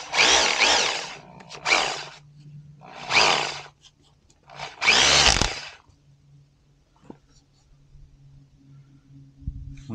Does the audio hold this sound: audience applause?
no